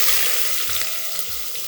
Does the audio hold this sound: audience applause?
no